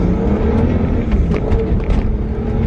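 BMW 135i with a stage 2 fuel pump upgrade accelerating hard, a loud, sustained engine roar that stays close and steady for a few seconds, with no talk over it.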